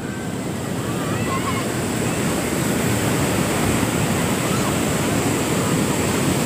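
Steady roar of surf washing onto the shore at Apra Beach, Sindang Barang, continuous and fairly loud, with wind buffeting the microphone throughout.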